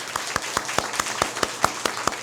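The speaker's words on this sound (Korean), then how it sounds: "하나님께는 영광의 박수를, 우리 집사님에게는 감사의 박수를 드립시다" A Methodist church congregation applauds after a special hymn, clapping in a regular, rhythmic beat of roughly four or five claps per second, close and even, unison hands over a soft crowd wash.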